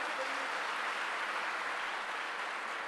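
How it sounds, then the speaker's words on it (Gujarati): Audience at a motivational session claps together in a steady, even wash of applause that fills the whole stretch at a moderate distance, with no voices on top. "તાળીઓ થઈ જાય બધા માટે તો એક જોરદાર"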